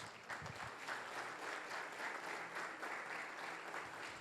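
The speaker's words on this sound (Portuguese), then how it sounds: "Aplauda Jesus." A church congregation claps together during a worship service, a steady, dense wash of applause at moderate distance that holds evenly for several seconds.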